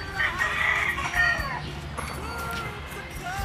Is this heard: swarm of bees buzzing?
no